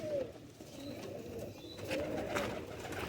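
A pair of Salara pigeons coo softly at close range, low rolling calls that recur a couple of times over faint background noise.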